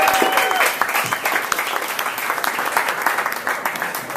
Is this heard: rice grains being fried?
no